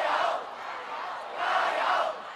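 A large crowd of protesters in Hong Kong roars and chants in two swelling waves, a dense, loud mass of voices.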